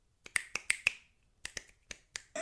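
A series of crisp finger snaps, a quick cluster of four followed by several more spaced out, sharp and close.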